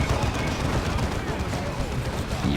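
Side cannons firing in a Warhammer 40K strategy video game, a dense, continuous rattle of battle fire heard under an ongoing voice.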